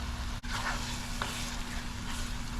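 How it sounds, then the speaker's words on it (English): Onions softening in a pan for a mango and celery achaar, giving off a steady, close, low sizzle and hiss with a faint hum underneath and a couple of soft stirring clicks, no talking. "I'm going to let it cook a little more until the onions and stuff get softer and get transparent"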